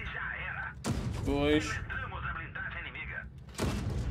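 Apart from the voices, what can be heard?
gunshots in a video game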